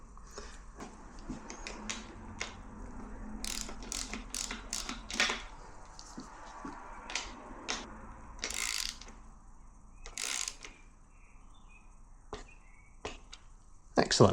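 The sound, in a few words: torque wrench tightening bolts on Fox 38 fork lower legs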